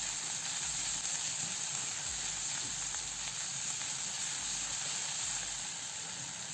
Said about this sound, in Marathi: कांदा परतत असतानाच मी यामध्ये एक चमचा अद्रक लसूण पेस्ट देखील टाकत आहे